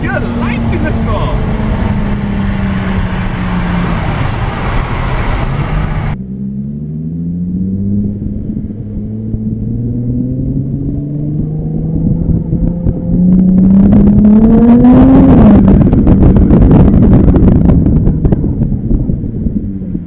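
A Jaguar F-Type S sports car's engine pulls hard while driving, its drone climbing in pitch through the gears to a loud, rising roar near the end, with wind rush and people talking over it.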